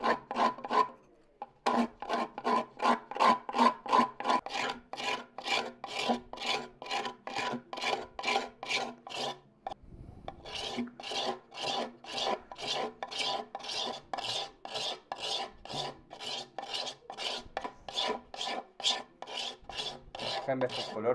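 Steady rhythmic rasping of a luthier's scraper sanding the inside of a wooden charango body, repeated strokes close up with a brief pause partway through.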